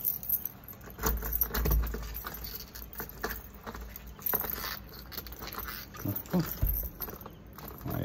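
Keys jangle and rattle close by in irregular bursts as someone tries several keys in a door lock while moving into a new home, with faint background noise between the clinks.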